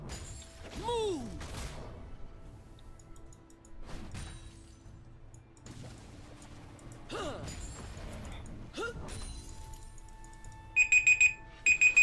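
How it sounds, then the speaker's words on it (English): A timer alarm goes off near the end of a League of Legends custom game, a run of rapid repeated electronic beeps in short bursts after stretches of game sound effects and music. "Oh, that's my timer."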